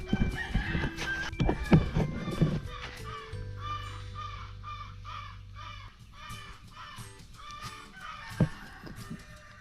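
Chickens and other farm fowl on a Philippine vegetable farm among ampalaya vines, with repeated clucks and crowing calls, some close and loud and others farther off, over low background rumble.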